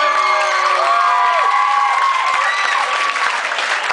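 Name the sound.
audience applause and cheering for previous acts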